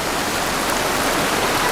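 Water pours over a walking path in a steady, loud rushing hiss, constant and close for the whole moment with no voices.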